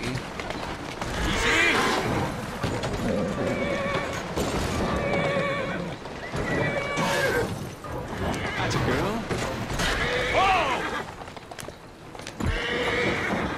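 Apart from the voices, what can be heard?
horses neighing and galloping in video game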